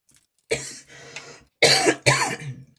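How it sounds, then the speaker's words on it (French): Several harsh coughs close up: one burst, a short rasp, then two strong coughs in quick succession. "Je tousse."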